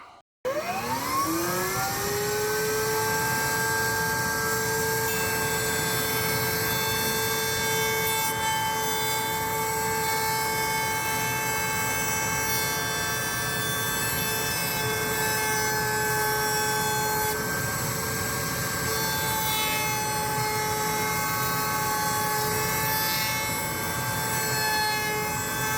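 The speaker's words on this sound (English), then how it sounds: "I'm gonna cut it out on the bandsaw and then move to the scroll saw to cut this out" Bandsaw cutting out a printed holster paddle for a Sig P320: a loud, continuous motor hum with a steady whine that runs unbroken for about 25 seconds, close by and with no voices.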